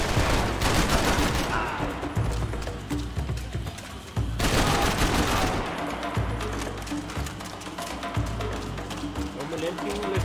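Rapid gunfire rattles in dense, continuous bursts in a shooting video game, loud and close with short pauses, while someone talks over the action.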